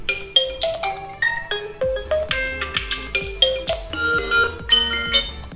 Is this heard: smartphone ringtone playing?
yes